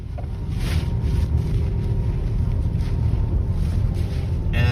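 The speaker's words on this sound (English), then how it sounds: "And now the ferry is slowing down just a touch." A ferry slowing slightly while crossing rough water in big waves during a Washington winter storm: a steady low engine and hull rumble under strong wind noise buffeting the microphone, loud and continuous throughout.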